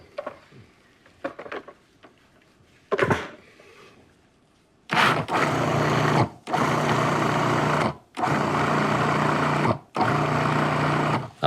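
Nuts ground with sugar and flour in a food processor or grinder: a few soft knocks and a short whir, then four loud sustained pulses of motor grinding separated by brief pauses.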